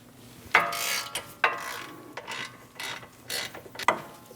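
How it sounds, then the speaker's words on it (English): A ratchet fitted with an E20 Torx bit works on the front brake caliper bolts of a 2011 Dodge Durango 5.7L V8, sounding in several close bursts of rapid clicking separated by brief gaps. "Using a E20 bit, we're going to remove the 2 caliper bolts."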